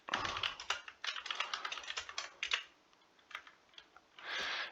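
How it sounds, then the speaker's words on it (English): Rapid clicking of a computer keyboard as Haskell code is typed, bursts of close keystrokes with short pauses, then a sparser few taps and a final cluster. "I did not finish typing Haskell."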